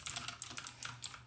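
Rapid clicking keystrokes on a computer keyboard, close and crisp, tapping in a quick uneven rhythm over a low background hum with no talking.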